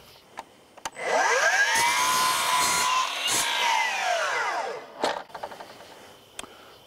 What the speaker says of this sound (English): We're gonna get the miter saw, cut this real quick, and then bring it inside.